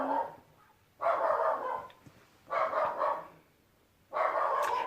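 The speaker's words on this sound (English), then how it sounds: "now the dog's barking" Dog barking outdoors, three separate bursts of rapid barks spaced about a second and a half apart, moderately distant against a quiet background.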